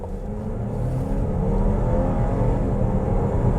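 A 2022 Buick Envision Avenir with a turbocharged four-cylinder accelerating along a road, a steady rising engine drone and whir heard from inside the cabin, moderately loud and continuous, with no talking.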